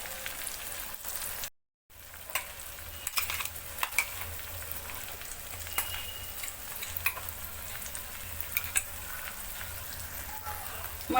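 Fresh green peas sautéing in oil for a Vidarbha-style matar bhaji, a steady broadband sizzle with scattered crackles and small stirring clicks, briefly cut to silence near the start, no talk.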